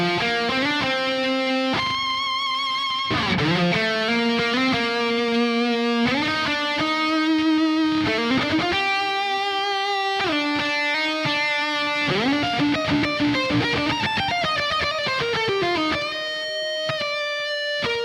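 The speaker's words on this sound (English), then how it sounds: "you can just keep raising the gain higher because this pedal has a lot of gain" An electric guitar plays a sustained, singing lead through a high-gain distortion pedal into a crunch amp, with bends and held notes flowing continuously for the whole passage and no talking.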